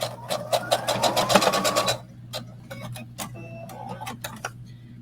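A sewing machine runs a quick basting pass on a sports bra seam, firing off a fast, even burst of stitches before slowing into scattered single stitches and pauses, close and clear over a low background hum.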